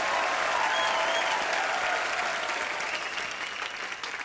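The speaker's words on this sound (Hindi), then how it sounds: "आप मैडम के लिए जोरदार तालियां।" Studio audience applause on the TV comedy show The Kapil Sharma Show: a dense, loud wash of many hands clapping, holding steady throughout and easing only slightly toward the end.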